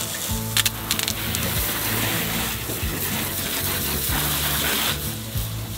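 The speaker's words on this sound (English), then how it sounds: "Now with all the running water noises" Steady rushing water runs throughout, with a low engine-like hum and some tonal mechanical noise underneath; no voices.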